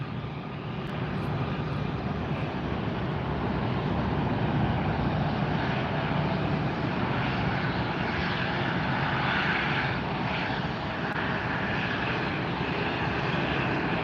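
Alaska Airlines airliner taxiing at LAX, a steady, broad engine roar held close and even throughout with no talk over it.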